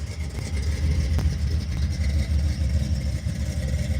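A car engine idling steadily right after being started, a close, loud, continuous low rumble with no talking over it.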